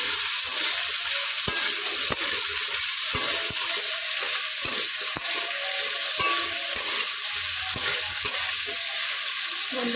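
Potatoes with turmeric fry and get stirred in hot oil in a pan, a continuous loud sizzle with frequent sharp scrapes and knocks of the spatula, close up and with no voices.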